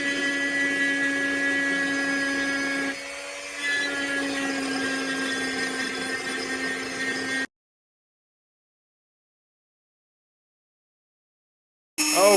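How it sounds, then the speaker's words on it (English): A Dremel rotary tool engraves kanji into wood with a high, steady whine that dips briefly, runs for about seven seconds, cuts to silence, then starts up again at the end. "I'm going to use a Dremel and see if I can try and sort of engrave this in the wood"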